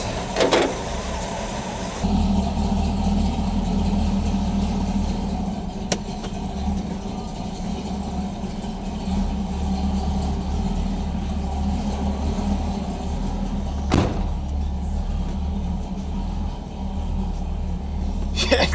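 A Jeep Wrangler engine with an LS swap idles steadily at close range with a low, continuous rumble, a few brief mechanical clicks standing out over the drone.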